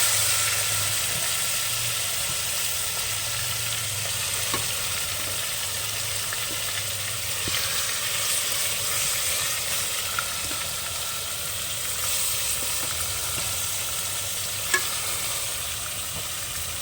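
One kilogram of chicken pieces fries in pure ghee with garam masala over a low flame for biryani, giving a steady, close sizzle and hiss broken by occasional soft stirring scrapes.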